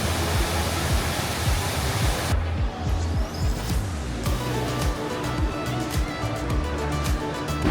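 The Rain Vortex, a large indoor waterfall inside Jewel Changi Airport in Singapore, roars in a dense, constant wash of falling water with a low hum of vehicles or machinery beneath it.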